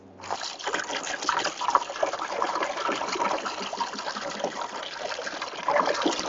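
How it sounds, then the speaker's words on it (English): A Tisas PX-9 pistol is dunked and sloshed in cold water, giving a continuous gushing, splashing wash of liquid that stays fairly loud and close with no talking. "we're going to dunk this thing in water and see how it does completely wet."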